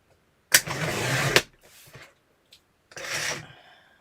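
A small electric trimmer used for a quick trim down gives two close buzzing bursts. The first lasts about a second, and a shorter one follows after a pause with faint handling noise in between.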